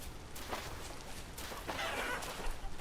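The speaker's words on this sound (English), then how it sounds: "Chickens." Chickens cluck in the survival video game Rust & Railroads, several short scratchy bursts at moderate distance over a constant low ambient background.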